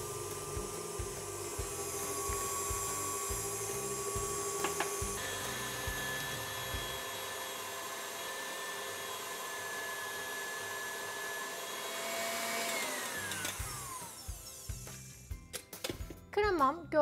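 An electric mixer whips cream at low speed for a semifreddo, a steady, fairly faint motor whine with beaters clicking against the bowl. Someone talks over it, and near the end the motor stops amid handling noises.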